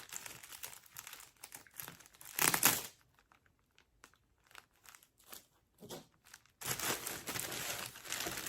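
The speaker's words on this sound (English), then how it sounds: "Get my little razor knife here and make sure I'm only cutting tape." Small razor knife slitting packing tape on a parcel, close crinkling and tearing bursts of plastic tape and cardboard, broken by quiet pauses and ending in a longer stretch of rustling.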